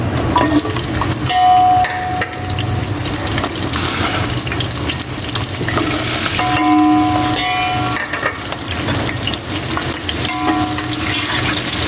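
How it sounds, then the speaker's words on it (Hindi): About half a kilo of onions fry in roughly half a cup of hot oil in a cooking pot for chana pulao, a loud steady sizzle with occasional metallic clinks of stirring throughout. "ये अभी प्याज फ्राई हो रही है"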